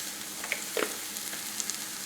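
Peanut oil sizzles in a frying pan, a soft steady crackle with a few small pops and light stirring, no voices over it.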